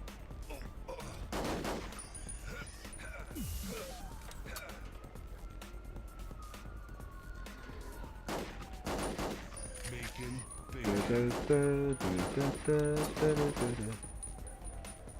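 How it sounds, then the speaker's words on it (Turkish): In the video game Duke Nukem: Manhattan Project, thrown bombs explode in sharp booming bursts amid gunfire-like game effects and electronic tones, with someone talking over the action. "Evet bomba atacağız şimdi. Ve kendimiz patlatıyoruz yine bombayı."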